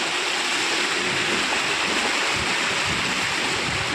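Floodwater pouring against and through a gate makes a loud, unbroken rushing wash that holds level throughout, with nobody talking.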